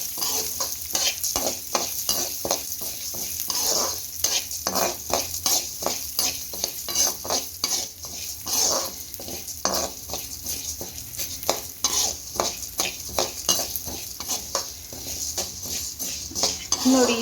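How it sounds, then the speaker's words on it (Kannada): Urad dal being stirred and roasted in a pan for Andhra-style gongura pachadi, with a steady run of close scraping spoon strokes over a dry crackle, continuous and fairly loud, no voices. "ಉದ್ದಿನಕಾಳನ್ನು ಚೆನ್ನಾಗಿ ಕಲರ್ ಬಂದು ವಾಸನೆ ಬರೋವರೆಗೂ ಹುರ್ಕೊಳ್ಳಿ."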